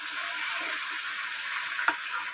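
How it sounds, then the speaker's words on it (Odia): Fish, bhakur, frying in a pan alongside a home meal of rice and curry, a steady close sizzle and crackle of hot oil throughout, with one brief clink near the end. "ସିଆଡ଼େ ମାଛ ଭଜା ଚାଲିଛି"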